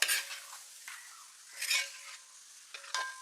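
A spoon scrapes and stirs flattened rice through jaggery syrup with papaya and banana in a pan, in a few separate, fairly close bursts with a faint sizzle and quiet gaps between them.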